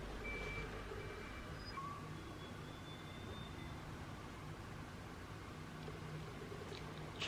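Faint high reversing beeps from a garbage truck repeat over a steady, low rumble of its nearby engine and street noise, late in the day, with no talking.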